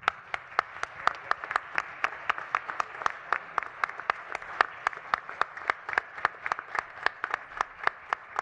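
Steady audience applause greets an honoree at an artistic-career awards ceremony for Mexican music, a dense, even patter of many hands with sharper individual claps standing out, continuing unbroken throughout.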